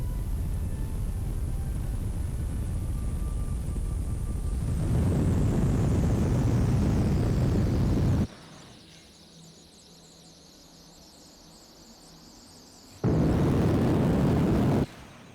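In the video game Kerbal Space Program 2, a rocket engine roars loudly. It cuts to a quieter hiss with a falling whine, then roars again briefly before fading.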